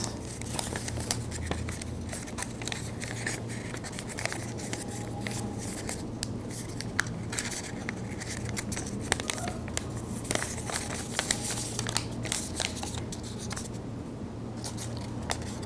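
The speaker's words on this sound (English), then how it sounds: "We're going to push the paper in where those triangle peaks are." Sheets of origami paper pushed in and creased while folding a paper book, giving a steady run of soft close rustles, crinkles and small crisp snaps over a low constant hum.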